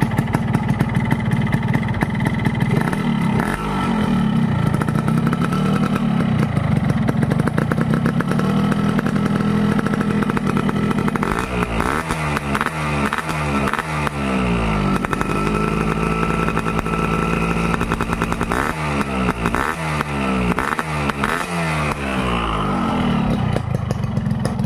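Cold two-stroke Frisol motorcycle engine fitted with an ASAP aftermarket exhaust, idling with a buzzing, crackling tone and then revved in several sharp bursts that rise and fall, loud and close throughout with no talking.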